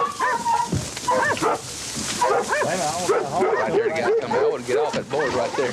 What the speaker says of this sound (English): And you let the dogs and the boars fight.